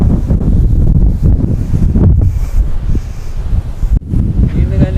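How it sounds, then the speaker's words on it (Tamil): Strong wind roars and buffets the microphone in loud, gusty rumbles on the hilltop at Chitharal Rock Jain temple, with a voice partly heard beneath the blustering noise. "செம்மையாக இங்கே காற்றடிக்குது"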